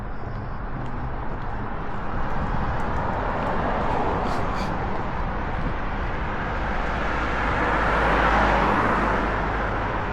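Cars passing on a country road near farms in Bobowo, Poland in summer, a steady roar of traffic that swells slightly as vehicles go by, heard from the roadside at moderate loudness.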